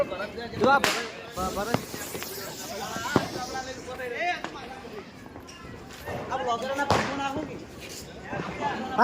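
Diwali firecrackers bursting at intervals, sharp bangs scattered over a noisy crowd with people shouting and talking.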